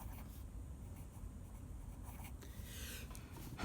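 A Platinum Preppy fine nib fountain pen scratches across paper in short strokes, a faint, close, dry scraping texture with quiet pauses between marks.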